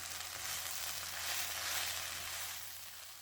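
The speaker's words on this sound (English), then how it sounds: "A good saute on your kale." Kale sautéing in a pan on a mini kitchen appliance, giving a steady, close sizzle and crackle that swells slightly in the middle and then eases off, with no voices over it.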